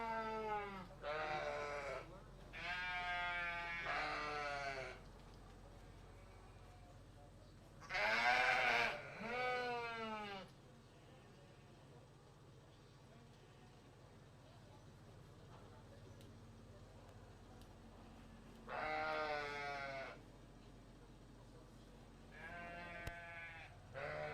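A lamb at a livestock show bleats repeatedly, a series of wavering, nasal calls in separate bursts with quiet gaps between, heard over low background hum.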